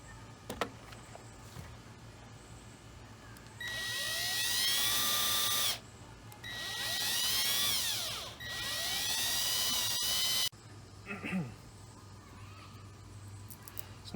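Small power drill notching shallow holes through the skin of a turkey fan mount, whining in three bursts of a few seconds each with speed dips between, close and fairly loud.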